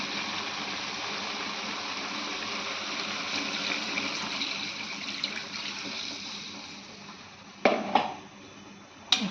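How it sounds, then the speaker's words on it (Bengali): Water is poured into a pot of sautéed vegetables, making a steady, fairly soft pouring and bubbling wash over several seconds, followed by a couple of sharp metallic knocks at the end. "আর এখন এর মাঝে আমি পানি দিলাম।"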